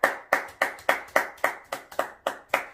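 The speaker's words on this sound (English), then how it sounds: "I clap for you." A single person's hand claps, ten sharp, evenly spaced slaps in a steady rhythm, close and fairly loud with no other sound around them.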